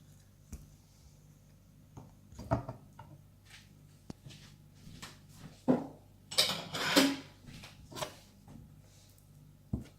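Metal spoon clinking and scraping in a bowl while scooping avocado, tomato and cucumber salad, a few close, light taps and scrapes spaced out over quiet.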